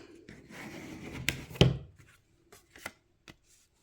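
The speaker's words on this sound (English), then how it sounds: "sometimes you can just open it up and burnish it from the inside" A folded paper greeting card is opened and rubbed firmly from the inside, giving a few short scraping rubs and a sharper swipe near the middle, then fainter scattered taps and brushes.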